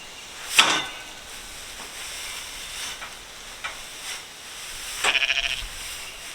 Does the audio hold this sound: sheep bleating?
yes